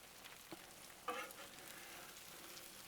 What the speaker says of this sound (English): have some fried cheese tacos. So we'll just let them cook right there for just a second.